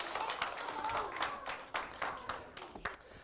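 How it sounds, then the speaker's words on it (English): A small audience at a children's magic show gives a round of applause for a young helper, soft scattered clapping with some crowd murmur, fairly quiet and distant. "Give him a big round of applause."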